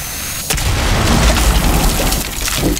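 Breaching charges blast open floor hatches in the Rainbow Six Siege video game, a sudden loud boom followed by sustained heavy rumbling and debris roar.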